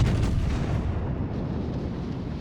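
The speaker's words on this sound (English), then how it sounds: "Secondary still firing away." Warship secondary guns fire during a World of Warships naval battle, a dense, continuous low rumble of booming artillery rolling on without pause, with no voices over it.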